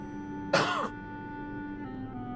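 A single short throaty cough close to the microphone, followed by a quiet room hum.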